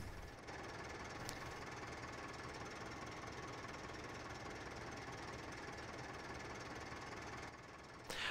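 Inside the cab of a tractor in Farming Simulator 15, the engine drones steadily and fairly quietly with a constant low rumble and mechanical rattle, no voices over it.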